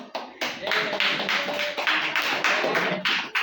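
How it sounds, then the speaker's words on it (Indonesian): A group of students in a classroom clap their hands together in a loud, brisk burst that fills several seconds, with short pauses between bursts and no talking. "Ya, tepuk tangan."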